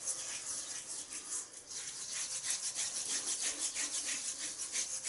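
Shaving balm, citrus-scented and applied in an almond-sized amount, being scrubbed vigorously onto skin: a steady, close, bristly rubbing hiss with a brisk back-and-forth rhythm throughout, no talking.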